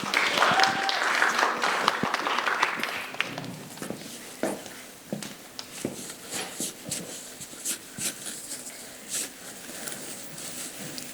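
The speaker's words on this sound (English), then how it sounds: "Now let's give a round of applause for Alina Chian" Audience applause for a student speaker at a high school TEDx event, a dense burst of clapping that thins after a few seconds into scattered, separate claps.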